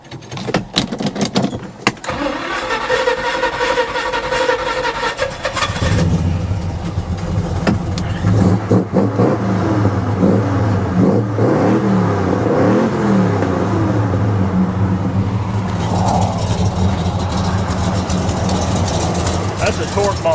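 A 1969 Chevelle SS V8 cranks and fires up after stalling, then settles into a loud, deep rumble with repeated revs, with a slight exhaust leak at the front header.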